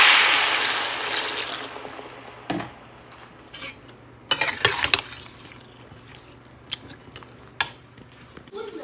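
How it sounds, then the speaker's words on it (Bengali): Water is poured into frying vegetables with drumstick for shukto, starting with a rushing hiss that fades over a couple of seconds, followed by scattered spoon clanks and stirring scrapes against the pan. "এর মধ্যে দিয়ে দিচ্ছি জল।"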